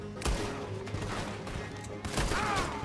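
A few loud gunshots crack in Red Dead Redemption 2, two or three sharp close blasts spaced over a couple of seconds amid busy game noise.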